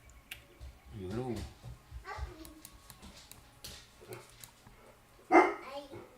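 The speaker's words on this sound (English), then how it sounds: "Why is Mosey barking so much?" A pet dog named Mosey barks repeatedly indoors, several yelping barks and whines spread across the stretch with one loud bark near the end, while a person talks nearby.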